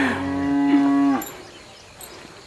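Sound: cows mooing in a village

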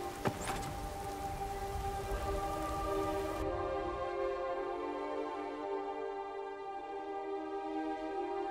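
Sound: rain in the video game Skyrim

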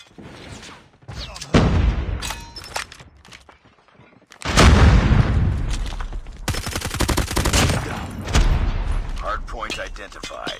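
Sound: grenade explosion and gunfire in Call of Duty: Mobile video game

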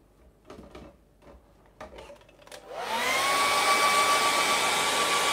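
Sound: hair dryer drying acrylic paint

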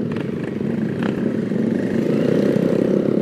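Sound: small motorcycles with loud exhaust riding

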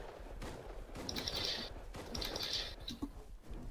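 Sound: gunshots in the video game Rust

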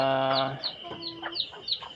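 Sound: hens clucking

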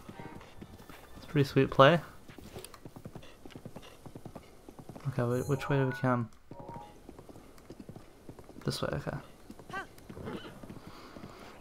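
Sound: horse galloping hooves in the video game Zelda: Breath of the Wild

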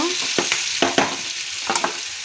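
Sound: vegetables frying in a pan for curry

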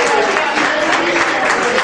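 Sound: concert audience applause

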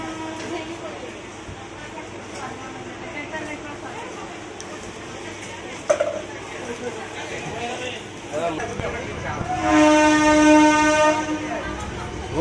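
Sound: train departing from station

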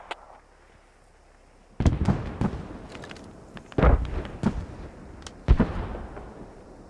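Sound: mortar explosions in the video game Squad

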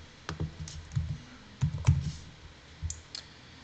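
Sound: typing a search on a computer keyboard

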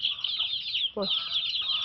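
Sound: chickens clucking

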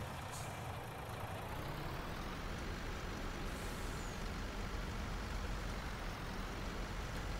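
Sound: semi truck engine and air brake in Farming Simulator 19 video game

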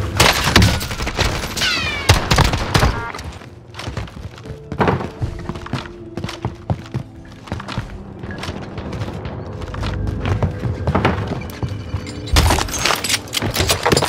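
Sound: AK rifle gunfire in video game Warzone

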